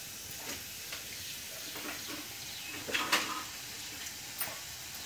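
Soft, steady sizzle of garlic frying in hot oil after turmeric goes in, faint and close, with a few brief louder crackles and stirring scrapes over a continuous hiss.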